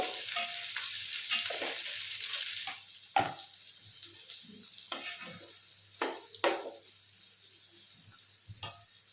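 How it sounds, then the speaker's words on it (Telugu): Green chillies and curry leaves fry in hot oil for a mushroom biryani, browning in a steady close sizzle that softens partway through as a utensil stirs and scrapes the pan in sharp intermittent knocks. "ఇది బ్రౌన్ కలర్ వచ్చే వరకు వేయించుకోవాలి"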